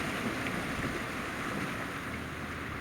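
Overland vehicle easing through a shallow creek crossing in Montana, a steady, close rush of splashing water and wind noise with no voices.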